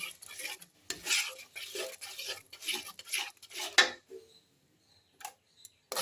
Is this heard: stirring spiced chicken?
yes